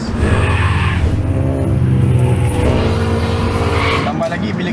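Toyota GT86 boxer engine running with an unequal length header, a loud continuous throaty exhaust drone with tire squeal or skid noise, under someone talking throughout.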